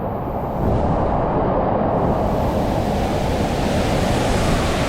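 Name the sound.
water splashing on a water park funnel slide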